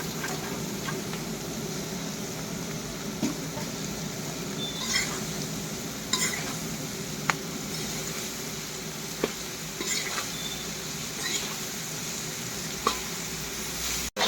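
Continuous sizzling of vegetables and chickpeas frying in a pan, broken by scattered scrapes and taps as they are stirred.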